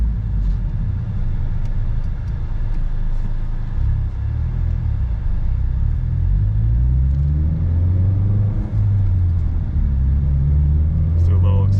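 A Ford Mustang EcoBoost with a 6-speed manual accelerates, its engine rumbling low and rising through the revs from inside the cabin, with talk over the steady road noise.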